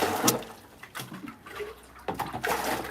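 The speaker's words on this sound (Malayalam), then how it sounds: "ആ വെള്ളം അവിടെ പുറത്ത് പോകുന്നുണ്ട്" Water pours and splashes out, draining away in uneven bursts of gurgling and spattering, close and moderately loud with no talk.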